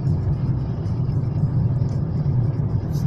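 A taxi car rolls slowly along a road with a steady, close, low engine and tyre rumble that stays even throughout, with no sharp changes.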